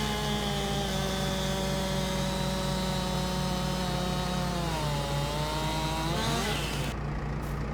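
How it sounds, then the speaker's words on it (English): Stihl Model 44 chainsaw cutting through a huge fallen log in the farming game Farm Sim 22, a steady loud buzzing whine with engine pitch dropping and rising as the chain bites, then cutting off near the end. "And I do have myself a nice steel chainsaw."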